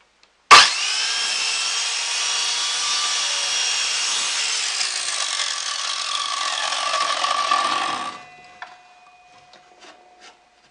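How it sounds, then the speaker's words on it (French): A miter saw cuts through a wooden board in one steady, loud, continuous whine lasting several seconds, then stops abruptly, leaving faint clicks and a fading hum. "Vous pouvez utiliser une scie à main ou une scie à onglet"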